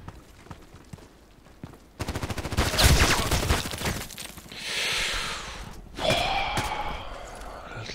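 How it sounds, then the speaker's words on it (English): IZH-43 shotgun blasts in the online shooter Contract Wars, booming reports over a busy game soundscape with other gunfire and effects, loud and close. "Two shots again."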